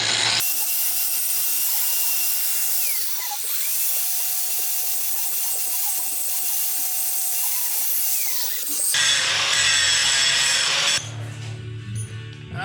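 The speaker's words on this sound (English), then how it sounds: "bust out the 5-inch grinder" A 5-inch angle grinder cleans up metal on an S10 truck with a Corvette Dana 44 swap, giving a sustained high whine that holds steady, then shifts pitch and cuts off near the end, loud and close with no talking.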